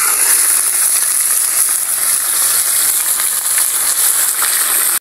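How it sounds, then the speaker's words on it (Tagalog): Tambakol fish fries in a pan of hot oil, giving a loud, continuous bright sizzle and crackle that runs without a break and sounds close. "Iprito muna natin yung ating isda"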